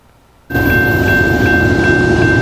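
Moving train heard up close, a loud, steady rushing roar that starts abruptly and carries on with a faint repeating tone and rhythmic clicks over it.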